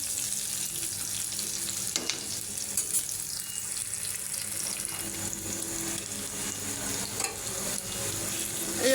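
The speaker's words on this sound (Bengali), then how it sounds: "হালকাভাবে ভেজে নেব। এখন দিয়ে দিব রসুন বাটা।" Chopped onion and garlic paste frying in a pan for a tilapia fish dish, a dense steady sizzle with occasional spatula scrapes and clinks, running continuously at close range.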